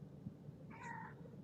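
A house cat lets out a single short meow, faint and somewhat distant, over a low steady background hum.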